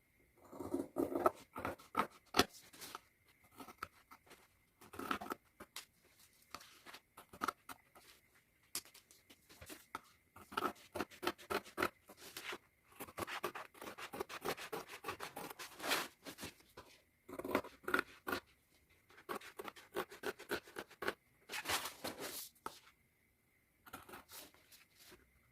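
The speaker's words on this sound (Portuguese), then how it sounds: "Agora, eu vou recortar esse meu molde." Scissors snipping through a paper sewing pattern for a trapezoid zippered pouch, with bursts of rapid crisp cuts separated by pauses and paper rustling, close and quiet.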